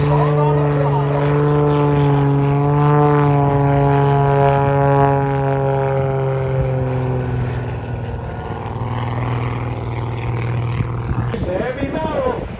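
A World War 2 propeller airplane roars low overhead at an airshow, its loud piston engine droning with a strong steady hum and rising and falling tones as the throttle shifts and the plane passes.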